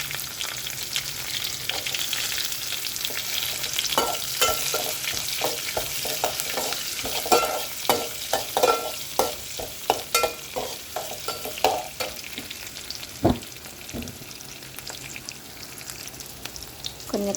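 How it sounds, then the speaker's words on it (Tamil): Small shallots sizzle and crackle in hot oil with fenugreek seeds while cooking sardine curry, a steady frying hiss broken by a string of stirring clatters and scrapes from a utensil, close up and with no talk. "நல்லா வெந்தயம் பொன்னிறமாக வதங்கினதும் பொரிஞ்சது நம்ம வெங்காயத்தை சேர்த்துக்கலாம்."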